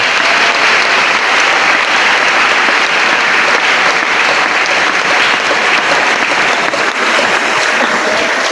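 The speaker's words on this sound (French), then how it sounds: "Qui acclamons très très fort le Seigneur" A church congregation claps loudly and continuously, a dense, steady wash of applause filling the room with no breaks.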